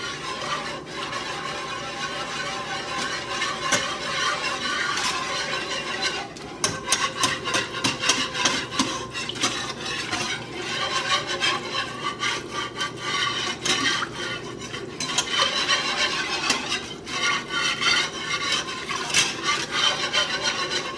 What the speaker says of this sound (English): You're going to mix that together.